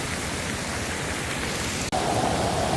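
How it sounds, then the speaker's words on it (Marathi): Heavy first monsoon rain pours down in the Satpura hills as a loud, dense, unbroken roar of falling water, close and enveloping, with a brief dropout and a faint tone rising afterward. "पहिला पाऊस, पहिला सातपुड्यातील खतरनाक एकदम मुसळधार पाऊस"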